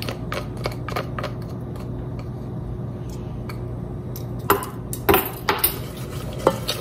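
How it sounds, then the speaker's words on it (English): A small spurtle stirs a light corn syrup mixture for caramel popcorn, making soft scraping and clicking taps against the pot, with sharper louder knocks clustered toward the end. "we are going to whisk this around with a little spurtle here"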